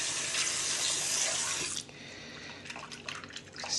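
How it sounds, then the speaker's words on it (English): Swordfish rinsed under a running kitchen tap, a loud steady splash of water that softens partway through into gentler trickling and intermittent drips and clatters, close by. "I'm going to rinse this fish just a little."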